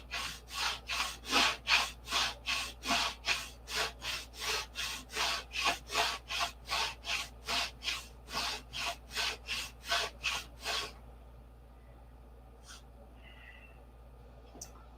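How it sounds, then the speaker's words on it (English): Sandpaper rubs back and forth on the wood of a P-47 control-line stunt model plane in a fast, even rhythm of about two dozen close rasping strokes, then stops and leaves a quiet room with a couple of faint taps. "You just sand down until you hear it."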